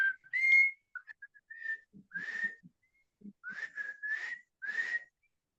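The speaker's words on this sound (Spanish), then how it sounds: "¿Algunos de ustedes saben silbar?" Several people in a classroom or lecture audience whistle in short bursts, clear tonal notes in a loose irregular rhythm with brief pauses and faint breathy sounds between them.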